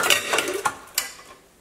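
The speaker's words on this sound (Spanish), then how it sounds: "ahora sí vamos a revolver muy bien" Stirring watermelon and strawberry agua fresca with lime juice in a container, close liquid swishing and sloshing with a couple of sharp clinks from the utensil against the side, fading out at the end.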